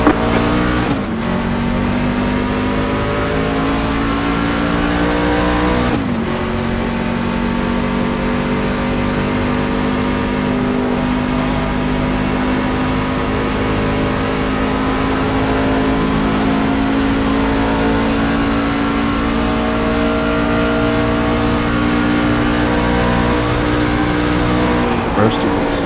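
Race trucks in the iRacing GANDER Outdoors Truck Series at Charlotte roaring away at the green flag, loud engine notes climbing through repeated gear shifts, with a voice talking over the din.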